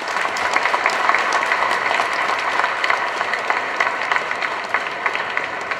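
A large audience claps to welcome guests at an Agaram Foundation event, a continuous, even burst of applause with crisp individual claps throughout and no talking.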